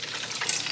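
Chicken à la king bubbling and sizzling in a pan, a brief, moderately loud crackle of thick sauce simmering up close with no talking.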